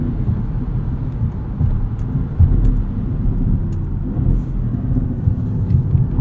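A 2016 Audi S7 on winter tires driven around town, heard from inside as a deep, steady engine and road rumble with small surges, close and fairly loud with no speech.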